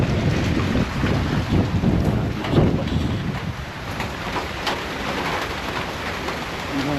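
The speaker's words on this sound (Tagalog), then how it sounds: "Masyadong malakas yung ulan." Heavy rain lashing down during Typhoon Uwan at a house in the Philippines, a dense continuous roar of downpour with gusting wind buffeting the microphone, loud and close throughout.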